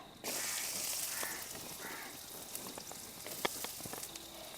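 Finely chopped large onion dropped into hot oil breaks into a steady, bright sizzle that keeps going, with a few sharp crackles and pops on top.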